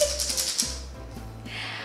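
Dry soybeans rattle in a small toy egg shaker with quick, crisp, rhythmic shakes, close up and continuous.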